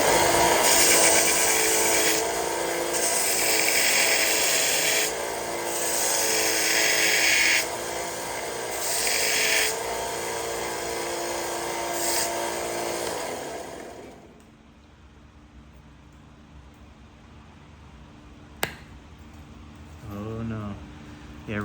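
The edge of a flint arrowhead is abraded to sharpen it during knapping, producing a loud, harsh grinding rasp for about fourteen seconds that then fades to quiet with a few faint taps.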